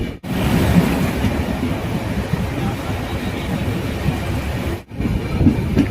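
Kandari Express train running at night from Digha toward Howrah, a steady loud rumble of wheels and carriage noise throughout, with two brief dips.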